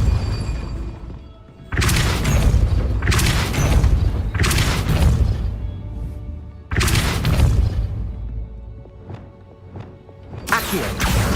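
Repeated Depulso spell casts in Hogwarts Legacy, four or five heavy booming impacts spaced a second or two apart, each a loud close burst with a rumbling decay, followed by a few sharp lighter cracks near the end.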